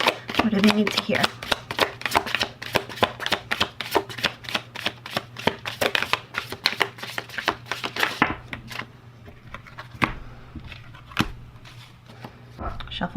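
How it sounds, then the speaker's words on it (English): A tarot deck shuffled briskly up close, dense rapid card riffles and flicks for about eight seconds, then sparser, softer taps and slides as the shuffling winds down over a faint hum. "Shuffle 3."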